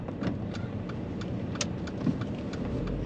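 A car pulls out of a car park, its engine running steadily nearby with ticking indicator-like clicks at a regular rhythm over a low road hum.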